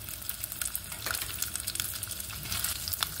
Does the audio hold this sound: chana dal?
yes